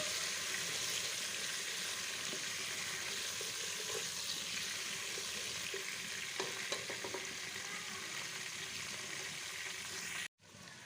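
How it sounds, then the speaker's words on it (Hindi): Garlic frying in a pan for vegetable pulao, sizzling steadily and close up with occasional stirring clinks, then cutting out abruptly near the end. "पाँच मिनट इस पर फ्राई करूँगी मैं"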